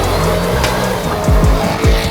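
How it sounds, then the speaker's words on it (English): A Ford Mustang fitted with a Borla Type S exhaust, heard near and loud as the engine note hums and then swoops down in several quick sweeping revs or passes, with some tire noise. "This car has the Borla Type S exhaust system."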